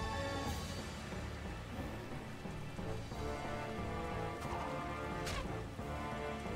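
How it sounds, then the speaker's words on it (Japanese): Steady rain falls as a continuous hiss in the Taiko Risshiden V DX strategy game, with faint game music tones layered underneath and no one speaking. "雨降ってきた"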